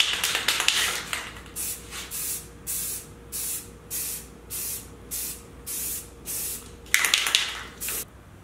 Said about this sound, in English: Now I'll just start putting a few layers of spray paint on it